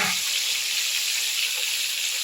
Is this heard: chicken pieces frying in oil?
yes